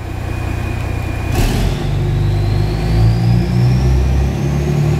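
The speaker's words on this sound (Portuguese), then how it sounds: "Agora eu vou acelerar o caminhão, ó." Toy-scale truck engine under radio-control kit, revved steadily, a continuous low engine drone holding fairly loud and close for several seconds with a brief burst partway through.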